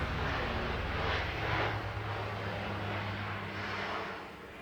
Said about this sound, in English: there's a helicopter flying over my house